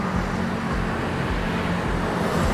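Road traffic on the Cijago section 3 toll road of Jakarta's JORR 2, a steady broadband roar of cars rolling past with a low rhythmic rumble, fairly close and continuous, with no voices.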